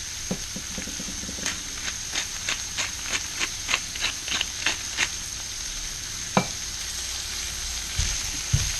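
Shrimp sautéing in olive oil in a stainless steel pan with garlic, steady sizzle broken by a run of rhythmic stirring scrapes and taps, then a couple of sharper knocks near the end.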